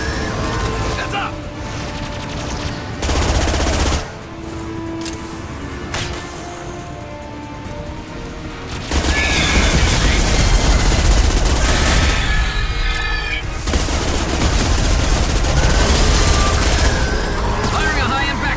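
Heavy high-impact gunfire in the Mass Effect 2 PC game during combat on Tuchanka, loud repeated shots and booms mixed with battle noise and shouted character voices, growing denser and louder partway through.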